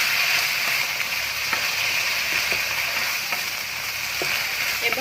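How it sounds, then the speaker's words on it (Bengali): Milk poured into a pan of frying chicken and potato mixture, giving a loud, steady close sizzle with faint stirring scrapes throughout. "এই দুধটা দিয়ে দিব।"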